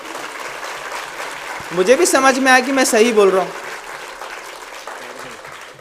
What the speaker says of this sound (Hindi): आपको मेरी बात अच्छी लग रही है तो थोड़ा सा ताली अच्छे से बताइए